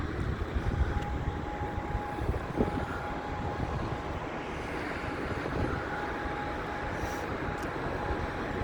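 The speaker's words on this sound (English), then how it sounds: "And just turn round here, the trams." A tram turns round on the South Shore promenade seafront, producing a steady, broad rumble with a faint thin metallic whine, continuous and fairly loud for several seconds amid outdoor wind and traffic noise.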